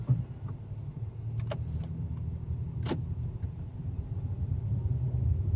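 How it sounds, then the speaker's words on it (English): Acura MDX A-Spec SH-AWD driving in rush-hour traffic, heard from inside the cabin as a steady low road and engine rumble with a few faint ticks and clicks, no talking. "Okay, now we're driving along."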